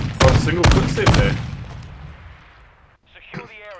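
Video game gunfire rings out as three loud, sharp shots in quick succession, each with a booming tail that fades into a dim rumble, followed by a brief voice at the end.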